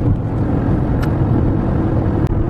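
A car cruises along a prairie road toward Albuquerque, heard from inside as a loud, steady low rumble of engine and tyre noise, with a couple of faint clicks and no talking.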